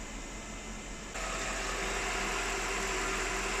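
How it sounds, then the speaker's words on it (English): Mercedes R129 SL500 V8 idling smoothly, a steady low hum with a faint vibration, heard alone and up close, stepping slightly louder partway through. "The engine is running smoother,"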